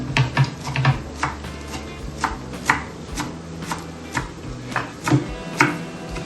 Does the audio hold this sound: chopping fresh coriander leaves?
yes